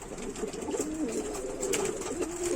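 Soft, low cooing of Ankara pigeons in a loft repeats steadily over a constant background hiss, close by and continuous.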